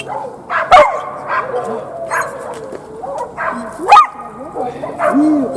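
A search dog barks at a rubble search: a few sharp, close barks with softer yips and whimpers between them, while people talk nearby.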